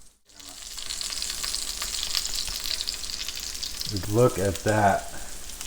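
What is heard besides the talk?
frying rice with kielbasa, kimchi and tortilla strips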